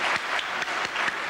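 Short spell of applause for Dorothy at a 40th anniversary celebration, with a few distinct louder claps standing out from the rest of the clapping.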